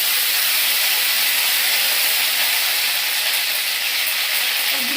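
A cumin and ginger paste hits hot oil in a pan and sizzles loudly. The hiss stays steady and close for the whole stretch, with no talking.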